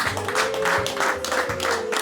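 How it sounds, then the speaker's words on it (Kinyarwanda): An audience at a Rwandan wedding claps in steady, rhythmic bursts over a sustained musical tone. The clapping is close and fairly loud and continues through the whole stretch. "reka tubakomere amashyi"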